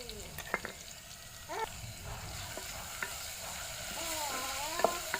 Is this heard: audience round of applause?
no